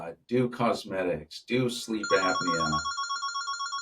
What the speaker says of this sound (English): Sorry about that phone.